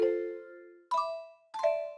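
Three bright synthesized bell tones ring one after another, each decaying smoothly, the first lower in pitch and the next two higher.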